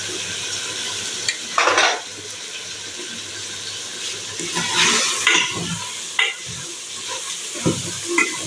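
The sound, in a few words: meat and onions frying and being stirred in a pan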